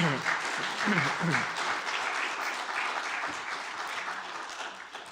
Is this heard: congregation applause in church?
yes